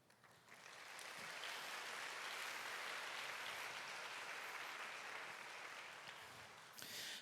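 A church congregation applauds to welcome a visiting missionary during a young adults' worship service: sustained, dense clapping from a large crowd swelling quickly and holding steady for several seconds, then tapering off.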